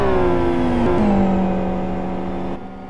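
A GT1 race car engine in a racing simulator holds a loud, steady high-pitched drone whose pitch slides down as it eases off, with a brief blip midway, close and alone.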